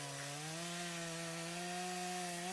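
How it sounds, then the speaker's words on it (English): A chainsaw sound effect runs steadily with a sustained droning engine whine that rises slightly in pitch, loud and alone with no voices. "We have a chainsaw sound effect in the DnDTime repository that I queued up for some dramatic moment"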